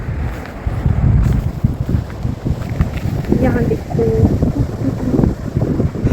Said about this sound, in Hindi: हवा चल रही है ज़ोरों की।